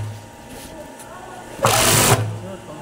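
An industrial garment sewing machine joining garter trim runs in a short loud burst of fast stitching, close by, with workshop hum and a voice talking before it.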